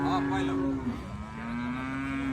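A cow moos loud and close at the Sangola cattle market, one of three cows brought in by farmers from Malshiras: a single long, drawn-out low call that holds steady, then tapers off, with no talk over it.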